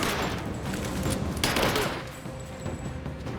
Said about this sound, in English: Covering fire! She's under fire!